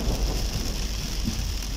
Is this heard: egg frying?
no